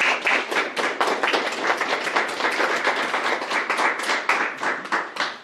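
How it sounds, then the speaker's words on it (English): An audience at a 2023 district spelling bee gives the contestants a round of applause, dense steady clapping from many hands at close range that carries on for about five seconds with no talking. "I would just like to ask the parents to give all them all around of applause for having even gotten this far"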